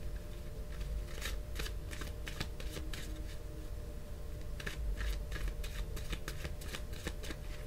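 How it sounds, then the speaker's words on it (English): Tarot cards being shuffled by hand: repeated crisp riffling bursts of papery flutter at an uneven rhythm, close and clear over a low steady room hum, with no talk. "All right, I'm just going to shuffle a little bit more."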